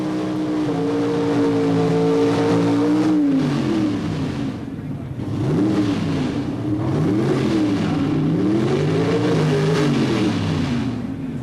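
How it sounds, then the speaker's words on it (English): A Pro Stock drag racing car in a 1977 NHRA burnout area, its loud engine revving hard in rising and falling surges as it heats the tires, close and continuous with no talk. "The next stop for our Pro Stock driver is in the burnout area, where he'll heat, warm the tires"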